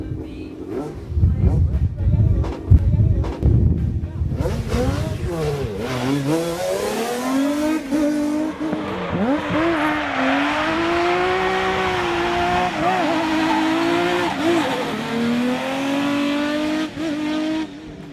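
A Skoda Fabia RS drives on cold, snowless asphalt, its engine revving and rising in pitch through gear changes, loud and close throughout, with brief tire noise and a voice talking over the opening seconds.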